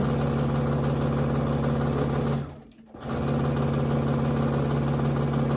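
A sewing machine stitches a quilted table runner with a loud, steady whirring hum. It stops briefly partway through, then starts up and runs on again.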